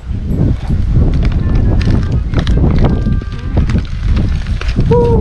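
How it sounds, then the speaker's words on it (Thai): Wind blowing steadily outdoors, a loud, constant rushing buffet across the microphone, with people talking underneath and a few brief thin tones near the end. "ลมพัดตลอด"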